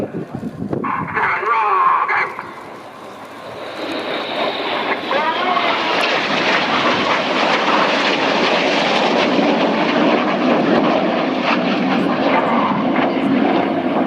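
A Hawker Hurricane propeller aircraft roars through a flying display at an air show, its engine loud and sustained as it passes, while a commentator talks continuously over the sound.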